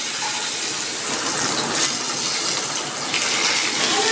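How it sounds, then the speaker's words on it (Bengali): Potato pieces frying in hot oil in a pan for a home Bengali curry with fish roe and eggplant: a continuous, close, bright sizzling hiss that holds steady with small crackles and no talking. "এবার আমি আলুটা ভেজে নিচ্ছি আলুটাও এইভাবে ভেজে নিতে হবে"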